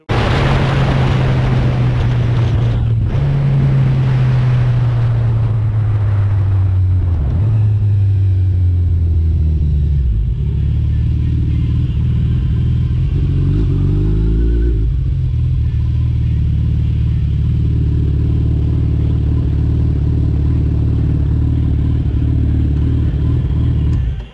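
A first-generation Suzuki Hayabusa held at a launch RPM of around 2500 gives a loud steady engine drone close by. The pitch drops in steps as the clutch bogs it down, then settles into a rough low idle rumble.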